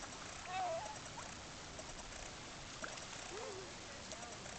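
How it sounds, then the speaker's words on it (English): Seagulls call across Kye Bay on Vancouver Island, British Columbia, a few faint distant cries over a steady wash of wind and water. "I love the sounds of seagulls."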